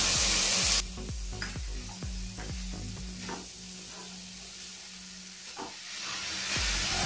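Boiled green beans frying in a pan for a beans fry, a loud hiss that drops as they land, then a steady sizzle under repeated scraping stirs of a spoon.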